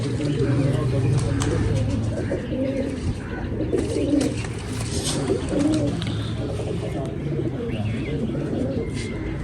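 Sialkoti pigeons coo in a loft, soft repeated rolling coos over a busy background, with someone talking over them for much of the time.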